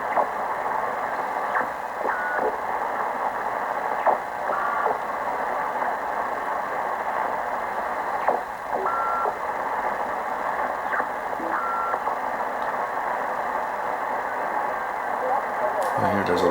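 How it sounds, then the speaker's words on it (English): Steady hiss and buzz of local radio interference on a shortwave receiver, with faint intermittent tones and chirps, a continuous noisy band throughout. "So this is obviously a local interference here."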